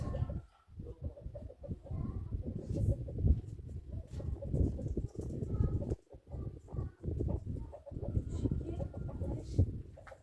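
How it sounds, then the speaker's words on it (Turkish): Chickens cluck in a busy, uneven series of short calls close by, with rustling in the background. "Tavuğun bir tanesi yok. Beş tane tavuk."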